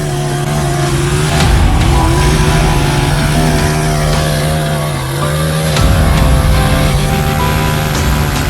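A Bajaj Pulsar motorcycle held in a stunt burnout, its engine revving hard and continuously at close range, a loud steady drone with slight rises and dips in pitch throughout.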